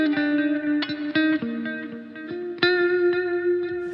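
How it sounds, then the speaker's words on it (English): An electric guitar plays single notes and short melodic phrases through reverb and delay for looping, each pluck ringing out with sustained echoing tails and clear attacks, with no voice. "for that part, I always use a reverb and a delay"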